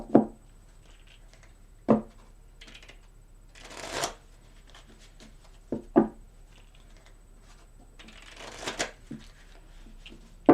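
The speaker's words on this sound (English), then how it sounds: "So I have shuffled these cards really good. I'm going to shuffle them 3 more times." Playing cards shuffled by hand before a weekly tarot reading, giving several brisk riffling bursts separated by short pauses and light taps, close and fairly quiet with no talking.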